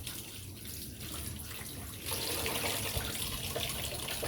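Running water pours steadily over vegetables being washed at a Filipino outdoor cooking setup, a continuous splashing rush that grows noticeably louder and fuller halfway through, with no voices over it.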